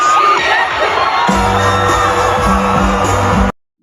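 A stadium crowd cheering as a song is rapped, loud close roar of shouts and whoops, joined midway by booming bass-heavy music before cutting off abruptly.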